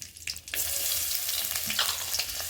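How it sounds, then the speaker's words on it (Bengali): Onion tossed into hot mustard oil with chillies, a brief clatter and stir giving way to a continuous close sizzle that holds steady, no voices. "এর সাথে পেঁয়াজ দিয়ে দেওয়া হচ্ছে"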